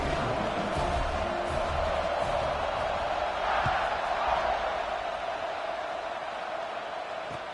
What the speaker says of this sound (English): This place is roaring